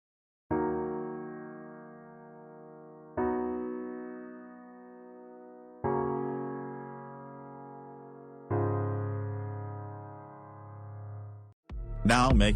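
Sustained synth chords in FL Mobile, softened by a low-pass filter, EQ cut highs and reverb, play as four long held chords with swelling onsets, ending in a brief brighter burst.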